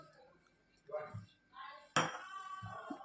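A spoon mixes ragi flour batter with curd in a bowl, giving quiet scraping strokes and a sharp clink against the bowl about two-thirds through, with soft voice sounds between.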